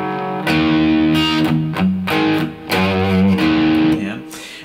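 A Les Paul electric guitar at a low gain setting with the volume rolled back, playing a riff slowly as a run of picked notes and short chords with brief gaps, loud and close.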